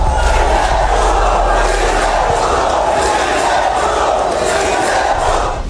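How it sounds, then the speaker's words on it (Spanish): A large crowd roars and cheers continuously at loud volume, a dense wall of shouting and whooping voices that holds steady before easing slightly at the end. "Por eso los aplausos, por eso la algarabía."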